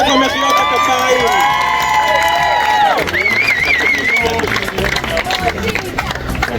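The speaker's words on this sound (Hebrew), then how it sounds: "לכן רק מחיאות הכפיים" Wedding guests clap and cheer together, a steady wash of applause with whoops and shouting that carries on throughout under occasional voices.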